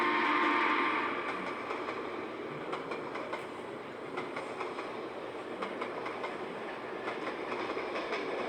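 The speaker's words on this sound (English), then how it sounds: "The train trundles over the points and passes through a low speed." Southern Pacific 4449 steam locomotive hauling an excursion train passes a crossing at low speed, wheels rolling and clicking rhythmically over the points in a steady rumble, moderately near, with no talking.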